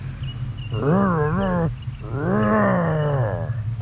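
A person imitates a hodag's call with two long, drawn-out groaning roars, voiced and wavering in pitch, loud and close over a low background hum.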